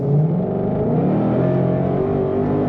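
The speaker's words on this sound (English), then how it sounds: "Push the throttle down, how much fun is it?" A 2022 Ford Mustang Shelby GT500 carbon fiber edition under throttle, a loud deep engine note rising and surging in pitch as it accelerates, heard close from the cabin with no talking.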